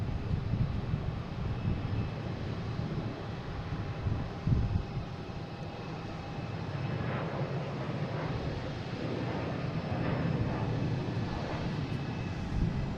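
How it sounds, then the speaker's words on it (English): Jet engine roar from a JetBlue Airbus A321neo taking off at Boston Logan International Airport, a steady broad rumble with wind noise, heard at a distance and holding level throughout. "we have a JetBlue taking off heading to Barcelona, an A321"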